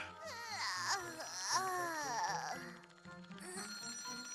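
A telephone rings in a cartoonish game scene, its warbling electronic tone mixed with a baby's wailing cry that swoops up and down, both loud and close.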